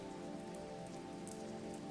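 Steady rain falls on a surface without pause, a dense, even hiss with a soft patter of drops and a low hum underneath. It is calm and continuous, and nobody speaks.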